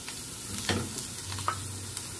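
Ginger, bay leaves, garlic and onion sizzle in a pan for squid adobo, a close crackling fry with scraping stirs and spatula knocks, no voices.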